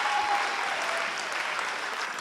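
Audience applause at an environmental justice anniversary gala, a steady dense clapping from a crowd, moderately loud and even for the whole span.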